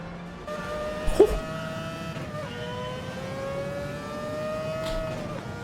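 Race car engine in Gran Turismo 7 screaming at high revs, rising through gears with brief shift dips, steady and sustained throughout with no talk over it.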